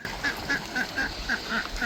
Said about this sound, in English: U-turn always bothers the birds.